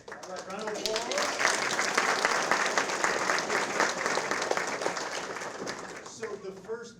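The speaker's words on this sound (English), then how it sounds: "All right, round of applause." A school board meeting audience gives a round of applause, a sustained burst of many hands clapping for several seconds that tapers off as a voice resumes.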